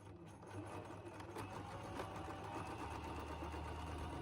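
A sewing machine runs steadily, stitching a sleeve lining to the front lining of a quilted jacket, with a continuous whirring hum and faint regular stitch rhythm throughout.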